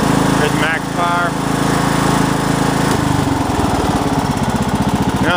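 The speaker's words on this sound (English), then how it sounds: "We'll go ahead and gun the engine up here as well. There's max power." A Toro lawn tractor engine roars loud and close, throttled up to full power; its steady drone shifts partway through into a harder, faster-pulsing rev.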